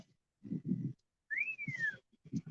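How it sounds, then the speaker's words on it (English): A person gives a single sliding whistle that rises and then falls, set among short low gusty rumbles of wind on a windy day, with no talk. "Quit whistling at that girl,"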